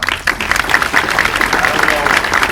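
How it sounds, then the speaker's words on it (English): Audience applause at opening remarks of a conference, a steady dense round of clapping filling the whole stretch at moderate level, with voices murmuring underneath. "So please, a round of applause."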